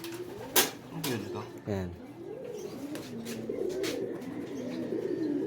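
A racing pigeon coos in soft repeated phrases after returning home to the loft, with someone speaking nearby, a couple of sharp clatters and faint background chirps on an overcast day.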